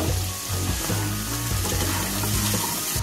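Chicken with salt and turmeric sizzles in a pan as it is stirred, giving a continuous frying hiss with scraping, bubbling movement across a short stretch.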